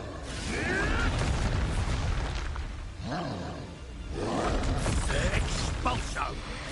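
In Hogwarts Legacy, Expulso spells go off as booming, roaring blasts with creaking, mechanical crackle, several bursts in quick succession amid battle noise and faint voices.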